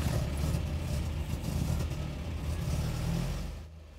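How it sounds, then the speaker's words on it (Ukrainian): A retro sports car with a 120-horsepower engine at an old-car festival in Kyiv, rumbling loudly and steadily up close, fading slightly at the end. "Коли гарчить двигун цього ретро-спорткара, земля навколо здригається."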